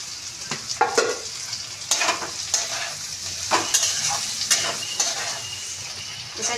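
Cauliflower florets frying and being stirred in a pan with ginger paste, cashews and raisins, a steady close sizzle broken by repeated scraping stirs and light clinks of the utensil against the pan.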